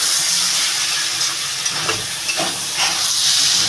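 Continuous close sizzling and hissing of garlic frying in a pan, with a few soft scraping stirs.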